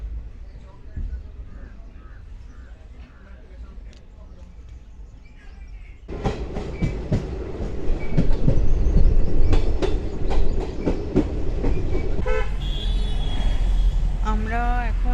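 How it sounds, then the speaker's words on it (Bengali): A moving train running from Haridwar to Dehradun, a low rumble that grows louder midway with rhythmic clickety-clack of wheels over rail joints and metallic squeals, near and continuous, with a voice talking beneath it. "ট্রেনে উঠে গেছি আর ট্রেন অলরেডি ছেড়ে দিয়েছে"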